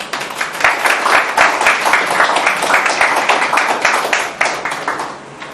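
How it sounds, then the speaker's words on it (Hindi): A church congregation applauds, a steady dense wash of clapping hands filling the room for the whole stretch at fairly loud, even level. "इसलिए हम एक दूसरे के लिए ताली बजाएंगे।"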